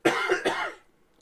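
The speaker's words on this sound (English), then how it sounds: "I've started coughing, and so now I will continue to cough." A man gives two quick, close, harsh coughs in a row, then falls silent.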